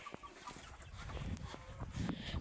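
A broody hen gives soft, intermittent clucks at moderate distance, low and quiet against faint background noise.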